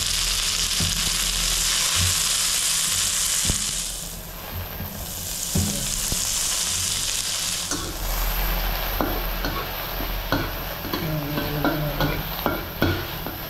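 Onion and tomato sautéing in a hot pan, a continuous near sizzle broken by stirring scrapes and clinks, briefly quieter around the middle before the hiss swells again and crackles grow busier.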